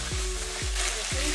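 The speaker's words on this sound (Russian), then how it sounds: "Кладем мясо, горячее масло." Small pieces of meat fry in hot oil in a pan for a pasta dish, giving a loud, continuous close sizzle broken by a few dull thumps of stirring.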